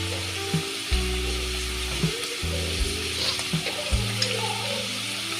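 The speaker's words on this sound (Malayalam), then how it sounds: "ഉള്ളി ഒന്ന് വഴറ്റിയെടുക്കുകയാണ് വേണ്ടത്." Lengthwise-sliced onions with a teaspoon of turmeric powder sizzle steadily in a hot pan, with a low hum underneath and a few soft clanks of stirring spaced through the sizzle.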